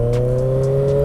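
A 2017 Kawasaki Ninja 1000 motorcycle with a modified exhaust runs loud and close, a steady droning engine note with faint brief mechanical ticks over it and no talk.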